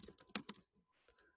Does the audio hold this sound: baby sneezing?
no